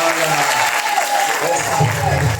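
A wedding congregation claps steadily to acclaim the Lord during a nuptial blessing, a dense crowd applause running throughout while a voice speaks over it.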